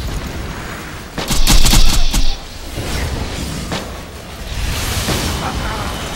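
Fire grenades explode in Borderlands 2 as a loud burst of rapid blasts and crackling, then fainter booms and a rolling rumble under dense game noise.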